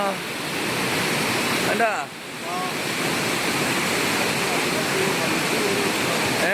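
Floodwater roars loudly and continuously under Chamaravattam bridge, a dense rushing wash. A single short spoken word cuts in briefly.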